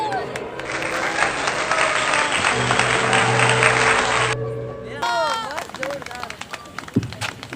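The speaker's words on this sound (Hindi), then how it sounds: "एक बार जोरदार तालियां हो जाए।" Loud, sustained audience applause from a crowd at an indoor wedding sangeet night at a resort in Ajmer, with music playing beneath; it fades out and a voice speaks afterward.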